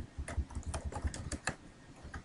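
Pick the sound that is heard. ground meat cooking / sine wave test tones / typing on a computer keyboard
typing on a computer keyboard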